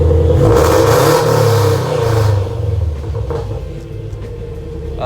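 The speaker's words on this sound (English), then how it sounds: "You can hear that Subi rumble." A deep, loping Subaru boxer engine in a Scion FR-S with a Tomei unequal-length header idles close by, loud and uneven, with a slightly lumpy burble that eases down after a couple of seconds.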